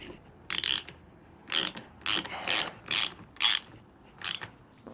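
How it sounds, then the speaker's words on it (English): A ratchet wrench tightens the fork top bolts on a Honda CB550 during a fork rebuild. It gives seven short, crisp bursts of clicking at a steady rhythm, close and clear, with no talk. "make sure that these top bolts are nice and tight"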